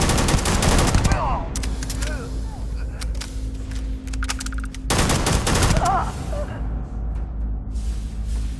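Bursts of rapid automatic gunfire and single shots from a Starfield firefight ring out loud and close, with a pause in the middle before another volley, mixed with game sound effects.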